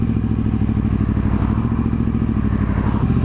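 Yamaha R1 motorcycle engine labouring at low revs, loud and close, with a rough, uneven thumping idle and a mechanical clatter that carry on steadily for a few seconds.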